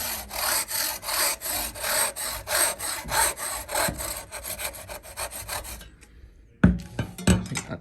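Saw cutting through a plastic water-fed pole, a close, rhythmic rasp of quick back-and-forth strokes that stops briefly, followed by a few scattered knocks and scrapes.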